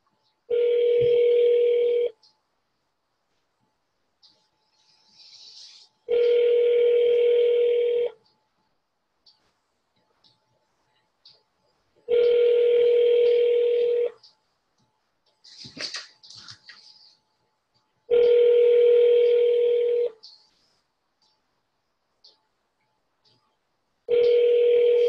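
Telephone handset audio after dialing *67 to block the caller number: long steady ringback tones repeat in regular bursts with silent gaps, and faint clicks and brief noises fall between them.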